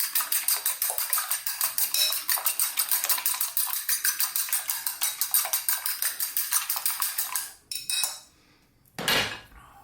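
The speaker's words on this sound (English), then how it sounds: "Then, a couple of eggs, just going to beat them." A couple of eggs being beaten in a bowl for an egg wash while making Chinese takeaway-style sweet and sour fish: rapid, steady rhythmic clicking of a whisk or fork against the bowl for about eight seconds, then a few scattered clinks.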